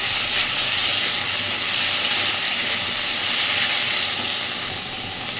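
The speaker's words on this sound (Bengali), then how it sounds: "সমস্ত মশলা আলুর সাথে সুন্দর করে কষাতে থাকবে।" Potatoes and spices sauté in hot oil in a pan, a loud, even, hissing sizzle that runs unbroken before easing slightly at the very end.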